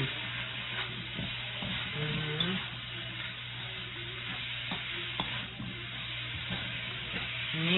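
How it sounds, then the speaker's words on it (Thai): Steady sizzling and scraping of chili and garlic stir-frying in a hot wok, with occasional clinks of a spatula, continuous throughout. "ดิฉันลืมเอาพริกลงไปผัดกับกระเทียมค่ะก็เลยต้องใส่พร้อมกันเลยนะจ๊ะตอนนี้"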